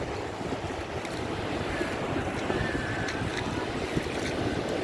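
Ocean waves breaking and washing along a beach in Guam, a continuous rushing surf roar with wind buffeting the microphone, steady and fairly close.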